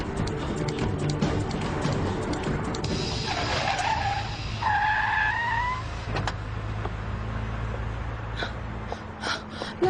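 Car tires skid and squeal during a chase, a long rising screech over steady engine roar, with tonal squeals in the middle and a clunk near the end.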